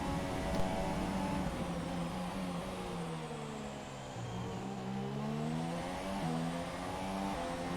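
A Toro Rosso Formula 1 car in the F1 2017 racing game, its engine droning loudly and steadily with pitch sweeping down and back up through gear changes and throttle shifts, other car engines layered in the mix.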